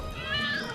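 A short, close cat meow, rising slightly in pitch over faint background noise.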